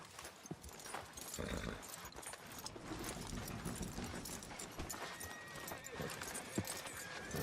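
Steady clip-clop of horse hooves at a walking pace in Red Dead Redemption II, fairly close, with busy background ambience throughout.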